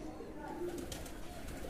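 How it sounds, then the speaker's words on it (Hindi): A small bird chirps and calls close by outdoors, over a steady wash of background noise. "ये जो पास बैठ गई है ना आके बोलती बोलती चिड़िया"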